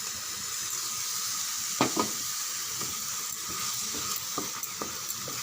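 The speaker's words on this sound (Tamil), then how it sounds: "நல்லா ஒரு 3 நிமிஷம் வதங்கட்டும்." Tomato paste sautés in oil in a pan with a soft, steady sizzle and faint hiss, broken by a few sharp stirring clicks and scrapes, fairly quiet and with no voices.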